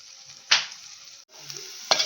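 Chopped onions and spring onions sizzle in a hot pan, with a steady frying hiss punctuated by two distinct stirring scrapes close up, and no voices.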